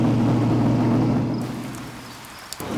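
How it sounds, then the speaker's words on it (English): Heavy rain pours down in a sudden shower at the Pikes Peak hill climb, a dense close hiss that thins and fades toward the end, with a couple of sharp drips or knocks, no voices. "It was a surprise to see all this rain come suddenly"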